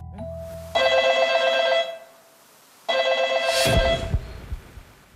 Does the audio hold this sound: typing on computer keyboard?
no